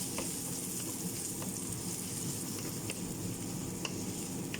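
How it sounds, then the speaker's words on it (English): Onions and paste cook in a pan for a Brazilian bobo de frango, giving a soft, steady sizzle with faint crackles and occasional light ticks, quiet and continuous with no voices. "we're just going to cook that until the onions and the paste"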